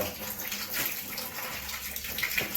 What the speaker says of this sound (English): Let's see if I can get some of this water out.